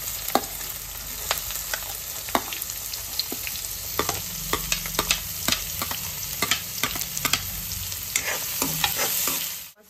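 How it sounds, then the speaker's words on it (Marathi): Onion frying in a pan with a bay leaf and chili, a steady close sizzle broken by frequent sharp scraping stirs, with no talking. "आतां घालया कांदो"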